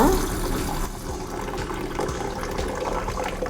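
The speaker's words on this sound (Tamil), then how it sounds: "இப்போ இது ரெண்டுத்தையும் நல்லா அலசி எடுத்துகிட்டு வந்துடலாங்க" Raw rice and fenugreek seeds being rinsed by hand in water, a continuous close swishing and sloshing with light grainy rattles, steady throughout with no pauses.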